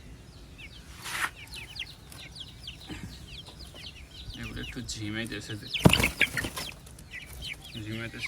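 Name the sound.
chickens clucking on a rooftop farm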